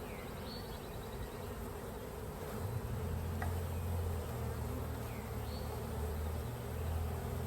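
A secondary honeybee swarm being shaken into a hive at dusk, giving a dense, steady buzz that grows louder partway through, with a few single bees droning past close by.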